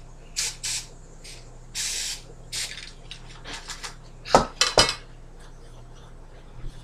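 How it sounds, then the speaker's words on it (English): Several short hissing bursts of cooking spray onto cupcake liners in quick succession, close by, followed by clinks of metal and dishes. "We're going to spray the cupcake liners with this"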